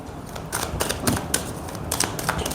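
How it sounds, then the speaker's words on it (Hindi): Tarot cards being shuffled by hand, a quick series of crisp riffling bursts and soft slaps, fairly close and steady, with no talking. "Let me shuffle the cards."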